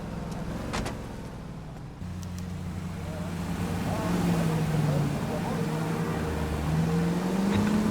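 A car engine hums and rises in pitch as the car drives through city traffic in the 1940s Los Angeles crime game L.A. Noire, steady and close, with someone talking over it.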